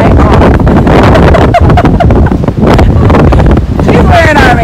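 Strong wind buffets the microphone in loud, continuous gusts, with a voice speaking underneath.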